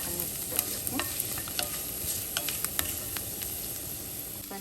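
Grated coconut frying and being stirred in a pan for an Onam sadya koottu curry, a steady close sizzle with scattered sharp spatula scrapes and clicks throughout.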